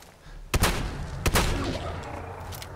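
Two sharp, loud shotgun blasts from the game Fallout ring out about three-quarters of a second apart, each followed by a rumbling decay that fades slowly, with no talking.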